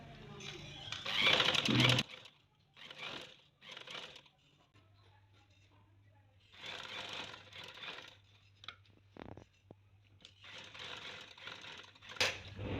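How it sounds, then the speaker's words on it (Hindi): Sewing machine stitching around the neck of a shirt: uneven runs of close mechanical whirring that start and stop, with quieter gaps between bursts. "तो फिर हमने इधर सिलाई लगानी शुरू करनी है।"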